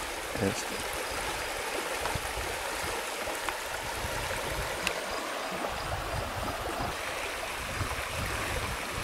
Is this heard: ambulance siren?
no